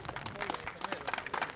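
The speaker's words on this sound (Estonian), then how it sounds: "no nii, aplaus." Applause from a crowd at an outdoor strongman competition, quick claps rippling through for under two seconds, with voices talking over the top.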